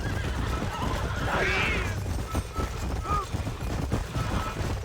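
A horse in the video game Red Dead Redemption gives a loud, clear whinny, followed by hoof clops and other game sounds under a steady background.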